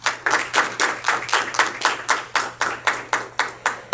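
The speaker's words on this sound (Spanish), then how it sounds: "Fuertes palmas, por favor." Clapping at a formal event, heard as a steady run of about fourteen sharp, evenly spaced claps, clear and fairly close, with no talk over them.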